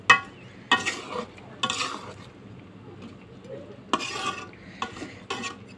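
A spoon scrapes and stirs through chicken curry with roasted spice powders in a metal pot, making several short, loud bursts of scraping separated by quiet pauses, with faint sizzling underneath.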